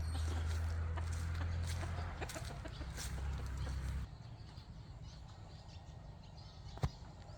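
Chickens cluck and murmur close by amid a low engine-like hum, which stops midway, leaving quieter scratchy background and one sharp knock.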